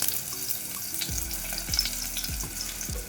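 Green chilies and asafoetida frying in hot oil give a steady, close crackling sizzle with a few low knocks from the pan or stirring, and no voices.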